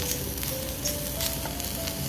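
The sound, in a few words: stirring prawn pieces frying in a pan on medium flame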